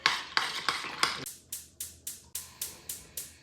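Salt is stirred into pasta ingredients in a bowl with a utensil: about a dozen quick, evenly spaced scraping clinks, close and crisp, with no voices.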